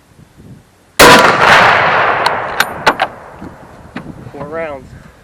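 An 8mm Mauser rifle fitted with iron sights fires one sharp, loud shot after a quiet moment, and a long decaying echo follows, then a few metallic clicks and a brief voice.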